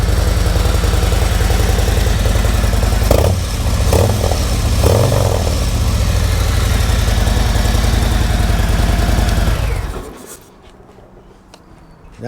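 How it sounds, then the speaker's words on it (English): A 2022 Harley motorcycle fitted with Tab Performance 4-inch mufflers and medium baffles idles loud and close, a steady dense rumble with a couple of slight throttle swells, then the engine cuts off and near silence follows. "did promise to let you hear the Tab Performance mufflers"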